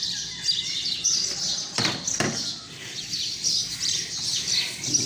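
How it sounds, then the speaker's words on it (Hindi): Several birds chirp and tweet in quick, high bursts nearby, with a couple of soft thumps partway through and a light hum underneath. "चिड़ियाँ देखे बोल रही है"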